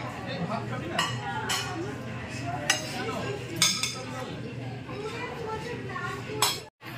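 Spoons and cutlery clink against plates and dishes during a family meal of chicken, in several light, scattered taps under steady conversation and background chatter.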